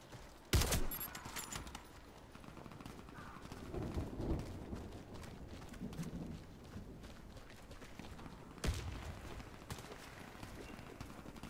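Gunfire in the online shooter Warface on the Pyramid map, a sharp loud burst near the start and another around the ninth second, with scattered shots and game noise between.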